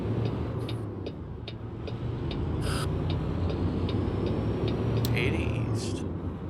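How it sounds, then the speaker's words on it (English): Loud truck engine in American Truck Simulator, a steady low droning rumble running throughout with faint clicks and ticks above it, close and constant. "Hey, it's not a stupid truck. It's just a very loud engine."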